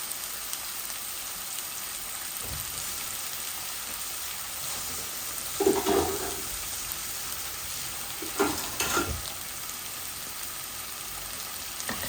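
Onions and garlic frying in hot oil in a pan before fish is added, a steady sizzle throughout with a couple of louder bursts of stirring and spatter midway, no talk.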